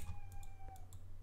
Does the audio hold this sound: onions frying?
no